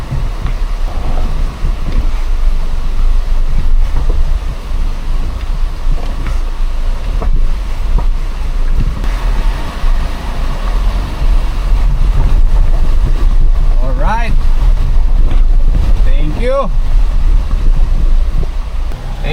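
Steady, roaring rush of a fast-flowing river with strong current and a deep rumble, constant and close, with a couple of brief high chirps near the end.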